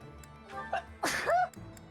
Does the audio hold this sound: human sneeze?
yes